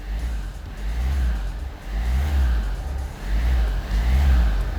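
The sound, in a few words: Hyundai Santa Fe DM engine running and revving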